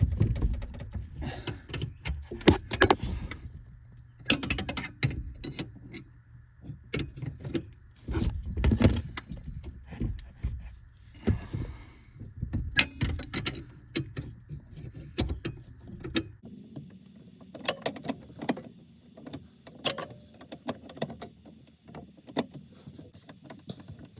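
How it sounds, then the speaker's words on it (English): Wrenches rattle and clank while working a bolt loose on a Chevy GMT800 steering column, with irregular close metallic knocks, jingles and scrapes throughout and a quieter stretch near the end. "Get my wrenches in here. This is a cool double wrench trick for more leverage."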